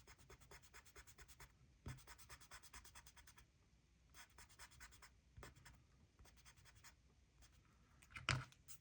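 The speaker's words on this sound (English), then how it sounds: "now I'm actually going to erase the pencil lines." A rubber eraser rubs pencil lines off paper in quick back-and-forth bursts of scratchy friction, close and quiet, with short pauses between strokes and a sharp tap near the end.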